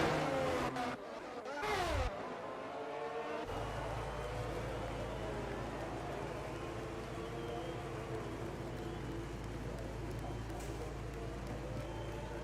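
Race cars at Zandvoort in a sim racing league qualifying session: a steady, sustained engine drone with harmonic whine, preceded by a brief rising rev and pass-by at the start, fairly loud and continuous.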